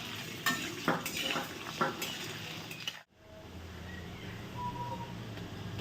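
Chicken kosha frying in a pan with onion and green chilli: spoon scrapes and clinks against the pan over a crackling sizzle, a brief pause, then a steady close frying hiss.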